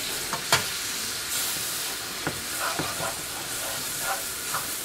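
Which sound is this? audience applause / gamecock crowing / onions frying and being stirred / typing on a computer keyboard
onions frying and being stirred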